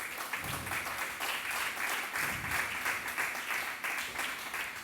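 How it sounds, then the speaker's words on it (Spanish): Church congregation applauding during a worship service, a steady wash of many hands clapping together at a moderate, even level throughout. "Dele una ofrenda de palmas al Señor."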